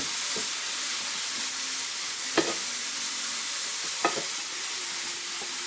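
Aubergines frying gently in a pan give a soft, even sizzle throughout, broken by a few brief clinks and stirring scrapes.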